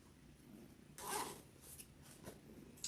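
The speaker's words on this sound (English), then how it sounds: "make sure your zipper's open or else this ain't going to work" Zipper on a zipper pocket being pulled open during scarf sewing, a quiet close rasp followed by a few shorter zip strokes, alone in a quiet room.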